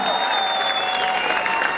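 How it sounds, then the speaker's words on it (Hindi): Loud, dense applause from a crowd at a mega event celebration, continuous clapping at full strength throughout with a tonal whistle or music line running beneath. "एक बार 60 लाख वाली तालियां तो हो जाए ऑल टुगेदर एवरीवन"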